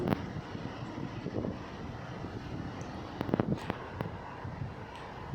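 Steady airplane engine drone in the mobile game BGMI, a continuous loud roar with wind-like rush and a few brief clicks, no one talking over it.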